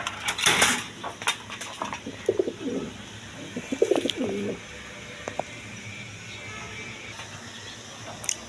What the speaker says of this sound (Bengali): এইখানে আরেক পেয়ার কবুতর আছে ইন্ডিয়ান নাচ জানা কালদম কবুতর আছে